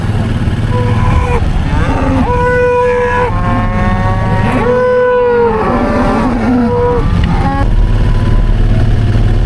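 Cows in a pasture let out several long, overlapping moos, loud and near, rising and falling in pitch over a steady low rumble, with no talking.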